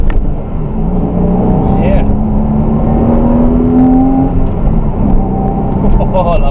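A Porsche Cayman S engine revs and climbs in pitch as it accelerates, loud and close, with someone talking over it.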